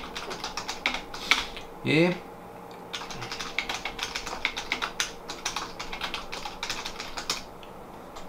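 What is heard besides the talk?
typing text on a computer keyboard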